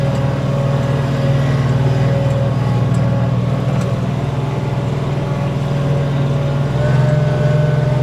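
A Kioti CS2530 compact tractor engine runs steadily out in the rain, a loud, close, continuous low drone holding even revs throughout with no talking over it.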